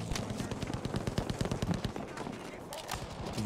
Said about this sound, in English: strafing runs are coming in